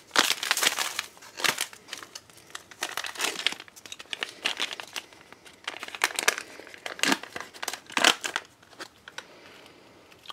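An MRE packet of tropical punch beverage base powder crinkles and rustles loudly and close up, in dense bursts of handling noise with brief pauses.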